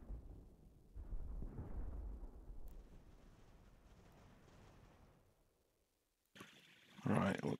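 Cannon fire in the strategy game Ultimate General: American Revolution, with deep booming blasts and rumbling decay at moderate distance, followed by a sharper loud burst near the end.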